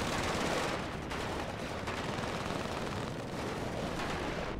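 Grad rocket launchers fire in the real-time strategy game WARNO, a dense, continuous roaring barrage of rapid blasts and rumble filling the whole stretch with no talk over it.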